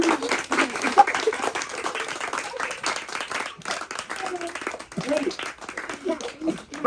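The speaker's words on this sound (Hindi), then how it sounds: "तालियां।" Audience clapping fills a lively Hindi gathering, a steady rush of hands that stays moderately loud throughout and mixes with people talking over it.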